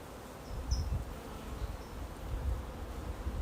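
Agitated honeybees buzz around an opened hive during an inspection. A continuous, close, droning hum with slight swells and a few nearer fly-bys runs throughout.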